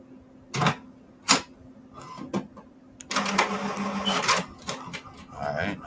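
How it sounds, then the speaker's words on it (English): Printer feeding and printing sticker paper, a quiet whirring and clicking with short mechanical bursts and a longer busy run of printing, close by in a room. "All right, now it's printing out."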